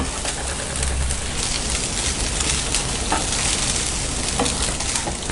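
Santhagai rice noodles tossed and stirred in a hot pan of tempering, giving a steady, loud sizzle and frying crackle with scraping stir sounds throughout; faint bird cooing is heard in the background.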